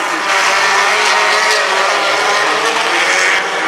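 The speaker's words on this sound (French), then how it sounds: "Et Marceau Launay, il a pris le départ, mais malin comme un teckel." Rallycross race cars, Renault Twingos, roar past in a loud, continuous engine blare with a high revving whine, sustained throughout at close range.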